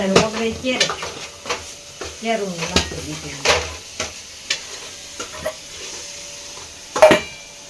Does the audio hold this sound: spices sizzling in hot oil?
yes